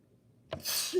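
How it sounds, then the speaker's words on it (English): A single short, sharp sneeze bursts out after near silence, followed by a brief breathy exhale. "That was a little sneeze."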